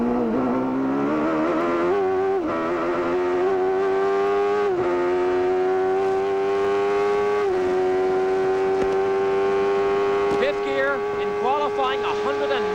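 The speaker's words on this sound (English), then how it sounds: "You can actually hear him breathe the throttle a little bit." A 1993 IndyCar at the Toronto Molson Indy, its engine a loud sustained whine with pitch dips as the driver eases the throttle through a corner, under race commentary.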